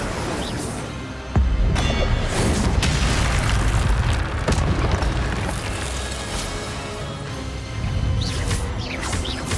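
A fiery spell blast in the video game Hogwarts Legacy erupts with a loud booming burst that stays as a dense roar, with further crackling impacts and a second swell near the end.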